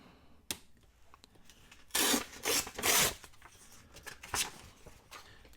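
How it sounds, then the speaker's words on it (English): Paper being cut for a journal pocket, close scissor snips and crisp rustling bursts in short irregular clusters, quiet between strokes. "I'm going to cut it big and we can always trim it down."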